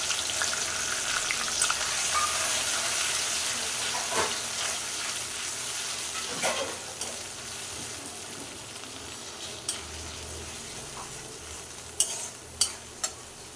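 Ginger, garlic and onion paste frying in a pan, a soft continuous sizzle with stirring scrapes and a few sharp clinks of a utensil toward the end.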